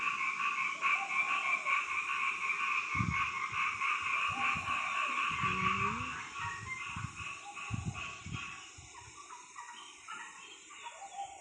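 Frogs croak at midday in a steady, layered chorus with a continuous trill, while low thumps and handling noise come and go nearby.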